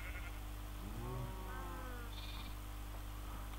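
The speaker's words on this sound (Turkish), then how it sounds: "Yavru koyun." A sheep in the Minecraft video game gives a short, wavering bleat partway through, over a steady hum and faint background music tones.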